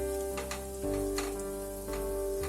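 Chopped green chillies and finely chopped garlic fry in hot oil in a kadhai, giving a steady, close sizzle with faint clicks and stirring.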